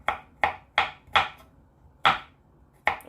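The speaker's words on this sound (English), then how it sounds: "Next, I will be chopping my garlic also into cube-like sizes" A knife chops garlic into tiny cubes on a board, six crisp separate strikes in an uneven rhythm, close and clear with no talking.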